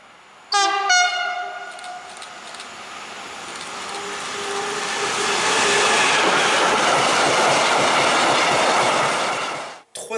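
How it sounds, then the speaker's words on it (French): An RTB Cargo freight train sounds a loud horn blast, then rolls past with a long rising roar of wagons and wheel noise that fades at the end. "il nous a même fait un petit klaxon"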